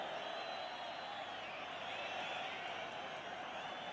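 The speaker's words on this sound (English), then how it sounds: "Crowd quite enjoying that moment." Football stadium crowd at a First Division match between Liverpool and Manchester United, a dense steady roar of cheering filling the whole span at even loudness, with no clear breaks.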